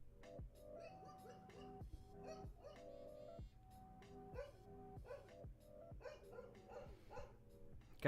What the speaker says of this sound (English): That's my neighbor's dog, who they leave outside and just barks all day.